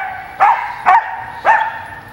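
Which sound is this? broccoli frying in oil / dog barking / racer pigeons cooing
dog barking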